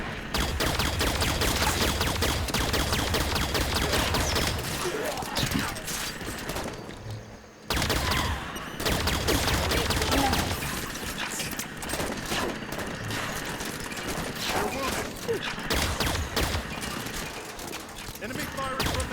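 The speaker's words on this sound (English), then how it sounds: "Enemy firing from that left." Sustained volleys of enemy gunfire in a Halo 5 campaign battle, dense and continuous bursts filling nearly the whole stretch with a brief lull midway, while voices speak over the combat.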